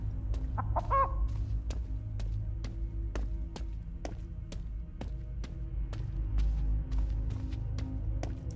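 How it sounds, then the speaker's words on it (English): A chicken in the horror video game Chicken Feet gives a short burst of clucks near the start, while evenly spaced tapping clicks repeat steadily over a low ambient hum. "The chicken is definitely here."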